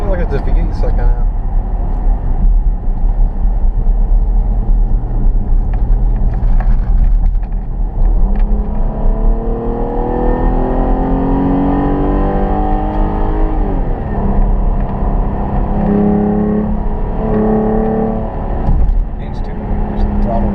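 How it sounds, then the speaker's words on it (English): Inside a 2013 Dodge Durango V6 with a K&N cold air intake, the engine drones under load, then climbs through several rising revs in the middle stretch before settling back, loud and close, with voices talking over it. "Sounds like it's a V8 sucking out."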